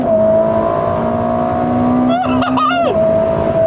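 A tuned Ferrari SF90 running at high power roars loudly and steadily from inside the cabin, its gearbox snapping through quick shifts so the engine pitch dips and jumps twice before settling again.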